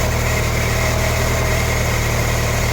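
The engine of a 1999 Kia Sportage idles loud and close with a steady, dense drone, and a worn fan belt adds a continuous high squeal over it.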